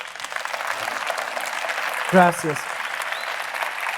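Audience applause for an author at a crime-fiction festival panel in Valencia, a dense steady clatter of many hands filling the hall, with a brief spoken word near the end.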